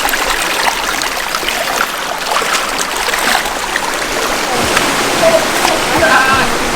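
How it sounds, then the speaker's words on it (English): A waterfall rushes in the Cockpit Country, a loud continuous broad roar of falling water close by, with people talking over it at times. "Alright guys, wrong waterfall."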